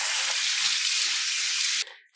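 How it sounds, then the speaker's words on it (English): Running water rinses organic black beans in a steady, close hiss that stops abruptly near the end, followed by a brief trickle. "I always like to give my black beans a good rinse before I use them"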